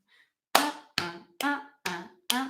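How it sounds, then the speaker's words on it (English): Five sharp hand claps and pats in an uneven rhythm, crisp and close, from a slowly played pat-a-cake clapping game. "You go clap, clap, pat a cake, clap, up, down"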